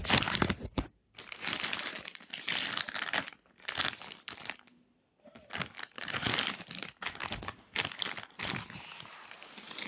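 Cardboard and plastic packaging on a Labubu toy box crinkles and crumples as it is unwrapped, in loud close bursts of rustling split by short pauses, with no talking.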